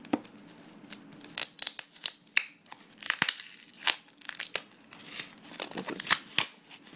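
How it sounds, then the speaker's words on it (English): A cardboard box of 500 rounds of 5.7 ammunition is torn open by hand, giving a close series of sharp irregular rips, crinkles and crunches with short quiet gaps between them. "This is probably the hardest box I ever had taken apart before"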